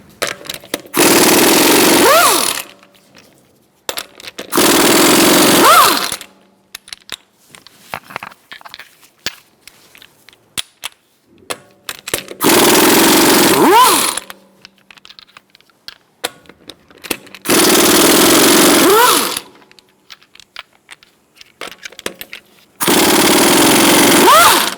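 Impact wrench fitted with a 19mm socket removing the lug nuts from a 2012-2018 Ford Focus wheel, in five loud, rattling bursts of a couple of seconds each, separated by quieter handling noises.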